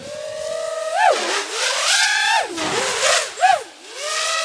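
FPV drone on DAL Cyclone V3 5050C twin-blade propellers, motors whining and sweeping up and down in pitch through quick throttle punches and swoops, loud and steady with no talking.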